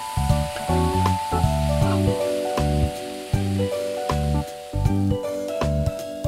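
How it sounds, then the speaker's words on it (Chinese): Tofu stir-fries in a hot wok with pork belly, ginger, garlic, dried chili and red chili bean paste, a steady oily sizzle with scraping stirs beneath louder rhythmic background music. "下入姜和蒜、干辣椒，还有红油豆瓣酱爆香，再混合豆腐炒匀"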